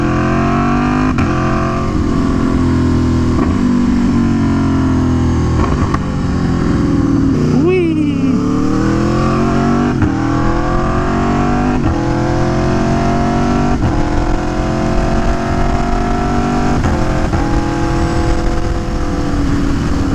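Aprilia Tuono V4 1100 Factory motorcycle engine revving up to about 6,000 RPM while riding, loud and close, with rising and falling pitch sweeps over steady wind rumble.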